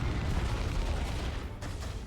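Blastmaster weapon fire in Dawn of War 2, a dense, booming, rumbling blast that holds for about two seconds, loud and close.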